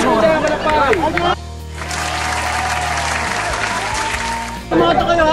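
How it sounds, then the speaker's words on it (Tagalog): Audience applause at a prize announcement, a burst of dense clapping rising sharply and holding steady for several seconds before ending abruptly, with voices and crowd chatter on either side. "Palakpak naman po tayo. Palakpak."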